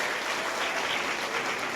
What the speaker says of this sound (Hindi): खड़े होके जोरदार तालियां दे उनके स्वागत में